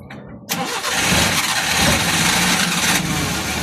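A car engine cranks briefly and then catches, settling into a loud, steady running roar close by that keeps going for several seconds with a rough, rattling edge.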